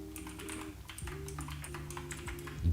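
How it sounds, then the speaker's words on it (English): Loud computer keyboard typing: rapid, irregular clicks and clacks close to the microphone, with a low electrical hum beneath. "my keyboard is extra loud"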